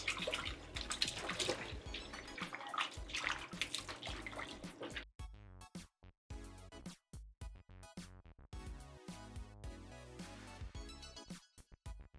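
Tap water runs hard while chicken is washed for Jamaican curry chicken. The splashing is steady at first, then breaks into choppy bursts as the pieces are handled under the stream, close by with no talk.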